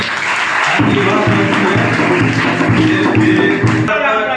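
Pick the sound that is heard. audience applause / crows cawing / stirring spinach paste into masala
audience applause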